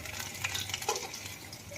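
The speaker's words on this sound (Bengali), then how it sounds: "দাঁড়া, বড়া ভাজা দিচ্ছি" Bora fritters frying in a pan of hot oil give off a steady, close sizzle with soft stirring scrapes, with no voices over it.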